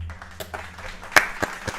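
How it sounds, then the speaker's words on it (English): Sparse, scattered claps from a small group wrapping up a live trading stream, a handful of distinct hand claps spaced irregularly over a quiet background. "Let's give ourselves a round of applause."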